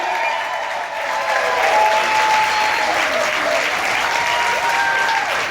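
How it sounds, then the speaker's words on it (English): A large audience applauds to welcome a speaker onto the stage at a motivational goal-setting event, with loud, sustained clapping and some cheering throughout. "Ladies and gentlemen, clap your hands."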